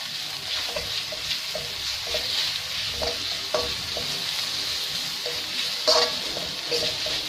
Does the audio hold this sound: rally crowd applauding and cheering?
no